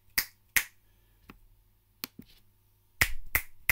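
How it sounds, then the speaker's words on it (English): Sharp, crisp finger snaps made right beside recording microphones in a quiet room, six isolated clicks spaced irregularly, the last three coming in quicker succession. "we can see when I snap my fingers by the mics"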